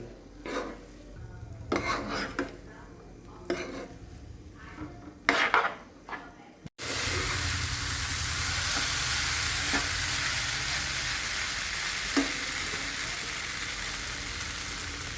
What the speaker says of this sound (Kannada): ಈಗ ನೋಡ್ರಿ, ಚೆಂದಾಗೆ ಎಲ್ಲ ಮಿಕ್ಸ್ ಮಾಡ್ಕೊಳಕತ್ತೀವಿ